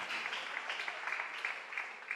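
A church congregation applauds during a sermon, a soft, steady patter of many hands clapping with slight swells, fairly distant and with no talking.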